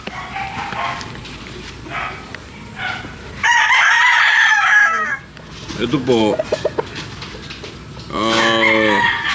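A banded gamefowl stag on a game farm crows loudly and close by, twice, with each long harmonic crow separated by quieter clucking and yard noise. Someone speaks briefly.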